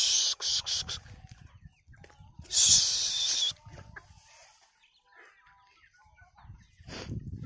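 Free-range village chickens foraging on a small farm give scattered clucks and calls between quiet stretches, with a louder, longer harsh burst in the middle and soft rustling throughout.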